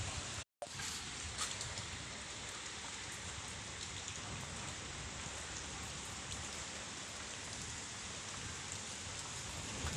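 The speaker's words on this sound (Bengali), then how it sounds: "ফজরের নামাজের আগ থেকেই শুরু হয়ে গেছে বৃষ্টি এবং বাতাস।" Steady heavy rain with wind before dawn prayer, a continuous even hiss of falling drops on surfaces, broken only by a brief dropout near the start.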